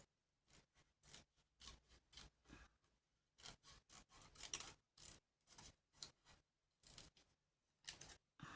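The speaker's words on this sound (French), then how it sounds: "Je le coupe par le milieu." Scissors snip through a piece of material along a marked centre line, giving a run of short, crisp cutting strokes in an irregular rhythm, close up with no talking.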